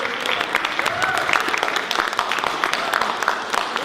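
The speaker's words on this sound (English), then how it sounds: "Can you give them all a big round of applause, everybody?" An audience at a school mock presidential debate applauds in a sustained patter of clapping, moderately loud and fairly even, with some voices mixed in.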